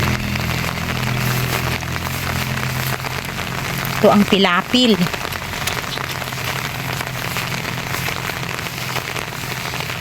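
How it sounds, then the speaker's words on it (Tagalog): Steady rain patters and hisses on a farm field throughout, with a brief spoken phrase from a man partway through. "Ganito lamang ang binibigay niyang ulan."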